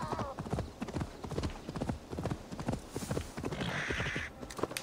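Horse hooves in Assassin's Creed Valhalla, a rapid, steady clip-clop of galloping close up, running the whole time with faint game ambience and a brief whinny-like sound near the end.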